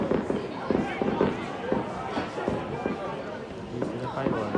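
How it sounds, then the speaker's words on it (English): Fireworks bursting over a crowd at a Rochdale football match on bonfire night, repeated cracks and pops mixed into dense crowd chatter and shouting. "You can't even see your fireworks"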